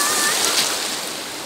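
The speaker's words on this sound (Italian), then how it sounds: "Ci sono anche le onde!" Sea waves at a summer beach wash in as a broad, steady surf roar, fairly loud and close, with a gentle swell in the middle and no talking.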